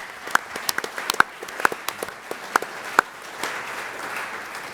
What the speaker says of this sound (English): Big round of applause for Caroline.